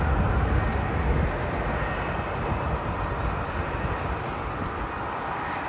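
A steady, loud jet roar from an airplane taking off from runway 18 left at Amsterdam Airport, a continuous broadband rumble that eases slightly over several seconds with no voices.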